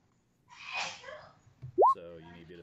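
One person sneezes close by with a breathy sharp burst, then a short voiced sound follows, with a soft tabletop role-playing game session of Stars Without Number going on around it.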